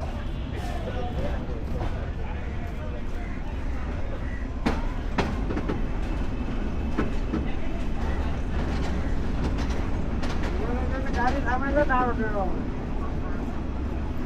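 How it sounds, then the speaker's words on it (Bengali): A Dinajpur commuter train rumbles steadily along the rails as it curves toward a bridge near Chirirbandar, with a continuous near roar, scattered clatter and squeal, and people talking throughout. "ট্রেন বেশ বাঁক নিয়ে যাচ্ছে, কার্ভ নিয়ে সামনে ব্রিজে উঠবে"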